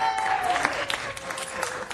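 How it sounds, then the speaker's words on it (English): Audience applause in city council chambers during a meeting honoring a newly declared citizen's day, steady clapping from a seated crowd sustained through the whole moment. "So if you could give her a great round of applause and congratulations."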